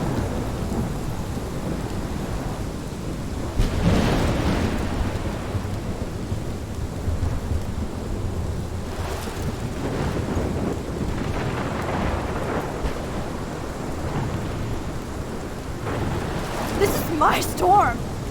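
Thunderstorm with rain in the video game Life Is Strange, heavy rain roaring steadily while thunder rumbles and cracks in several bursts, with a louder crash late on; a voice speaks briefly amid the storm.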